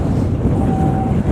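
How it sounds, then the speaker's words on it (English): Strong wind buffets the microphone at Crimond Raceway in Scotland during a stock car and caravan destruction derby, a loud, continuous low rumble with gusting swells and a faint tonal whine. "a bit of wind, a bit of rain."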